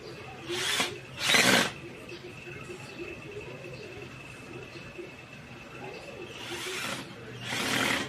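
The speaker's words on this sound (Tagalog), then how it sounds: "testingan natin yung binabili ko sa online na impact drill" An impact drill bought online drives a screw in short bursts: two loud whirring runs near the start and two more near the end, with a faint steady hum and quieter background sounds between.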